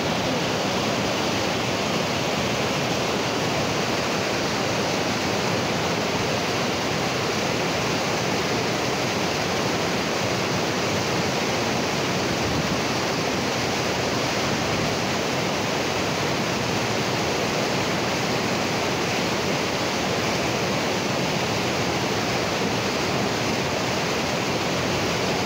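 Lurín river water flowing steadily, a constant broad rushing hiss close by with no breaks and no voices.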